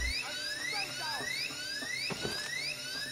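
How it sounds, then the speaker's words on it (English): A drill bores into a time lock door in the video game Payday 2, giving a steady high-pitched whine with repeating rising sweeps and faint clicks, near and continuous with no talk. "Throwing a drill on the time lock door"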